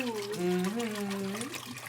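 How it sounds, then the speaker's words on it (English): Water is poured in a steady stream while mixing a batch of hard lemonade, its soft splashing running under a drawn-out vocal exclamation from someone nearby. "just pouring in the water, and we're going to use the whole thing."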